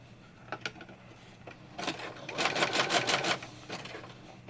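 A sewing machine stitches a coiled clothesline fabric bowl: a few quiet clicks, then a fast rattling run of stitches close up, ending in scattered ticks.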